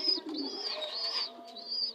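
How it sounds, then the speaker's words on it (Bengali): A young racing pigeon reared for tournaments gives soft, repeated coos and warbles close by in a quiet setting, with no one speaking. "এটা হলো আমার টুর্নামেন্ট খেলার কবুতরের বাচ্চা, খয়গলা"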